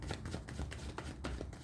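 Tarot cards are shuffled by hand in quick repeated riffles and soft slaps, a faint, close papery flutter in an even rhythm with no talking.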